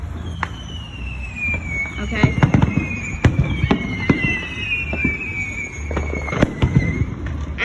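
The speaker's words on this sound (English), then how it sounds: "I'm gonna film those fireworks." Fireworks burst repeatedly at an outdoor show, sharp bangs and crackles scattered throughout over a steady crowd murmur, with whistling rockets rising in long tones and a person speaking briefly nearby.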